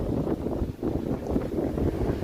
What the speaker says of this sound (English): Really windy here, standing in front of Dundas West